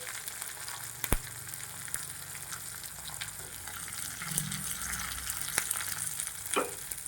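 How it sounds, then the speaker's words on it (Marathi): Cumin, a pinch of asafoetida, curry leaves and split green chillies sizzle in hot tempering oil for a sesame chutney, giving a close, continuous crackling fry with sharp pops and spoon clicks scattered throughout. "याच्यात आपण अर्धा चमचा जिरे चिमूडभर हिंग थोडासा कढीपत्ता आणि एक हिरवी मधून कट केलेली आहे त्या दोन घालूया"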